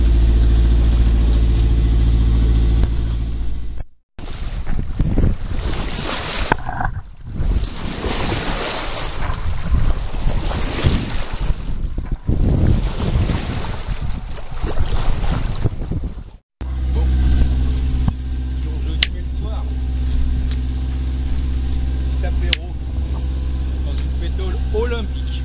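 A sailboat motors across open sea on a return transatlantic crossing in June 2020. Its steady low engine drone runs under constant wind and rushing water, with two brief dropouts.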